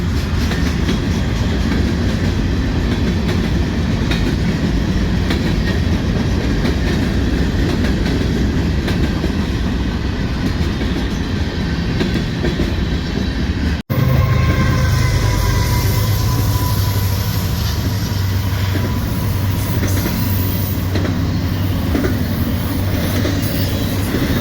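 A loud freight train rumbles past close by, with continuous clattering wheels and rail noise filling the whole stretch and no voices.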